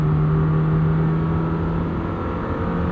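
A 2026 Lamborghini Temerario hybrid supercar with 907 hp pulls hard, its engine revving loud and steady from inside the cabin with a sustained droning note and no talk.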